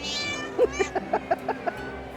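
Several cats meow in a short run of six or seven close, distinct calls at a cat show with Burmese, Siamese, Oriental and exotic shorthair cats, over a steady hall murmur.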